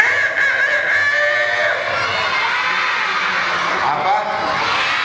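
A voice imitates a chicken's cackling and crowing at an Islamic children's storytelling session, with wavering shrill calls rising over a noisy crowd of shouting children throughout.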